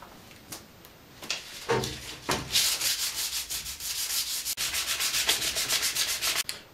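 A single speed bicycle frame being sanded by hand: close rhythmic rasping strokes that start sparse and grow into a fast, even back-and-forth scrubbing.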